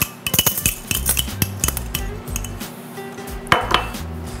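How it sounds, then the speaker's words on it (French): A spoon mixes butter and chocolate in a cup for a mug chocolate cake, with quick clinking taps against the sides in bursts, close by and without speech. "Je vais juste bien mélanger beurre et chocolat."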